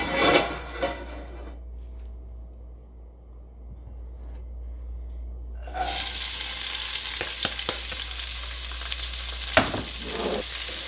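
Oil frying hard in a hot pan for Southern fresh fried corn, a loud, steady sizzle that starts suddenly after a quiet stretch, with a few utensil clinks.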